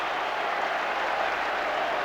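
A football crowd applauding a goal at a top-flight match, a steady, broad wash of clapping and crowd noise heard from a distance.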